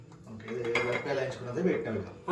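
A metal pot clanks as it is set down for tempering in oil among other kitchen clatter, with someone talking over it.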